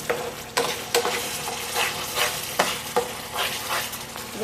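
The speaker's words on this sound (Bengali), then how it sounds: "তেজপাতাটা দিয়ে একটু কষে নেব।" Bay leaf and masala spices for paneer masala fry in oil, a close, loud sizzle broken by repeated rhythmic spatula strokes scraping the pan.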